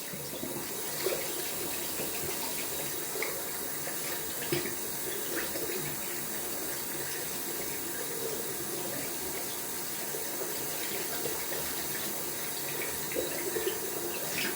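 Steady tap water runs continuously while a 21 mm knot shaving brush is rinsed out in a sink, a constant splashing flow with small irregular spatters and no voices.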